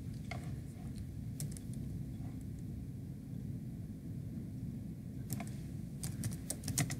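Faint clicks of typing on a computer keyboard come in a few scattered keystrokes and then a quick cluster near the end, over a low steady room hum.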